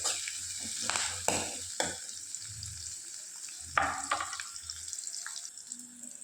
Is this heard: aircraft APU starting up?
no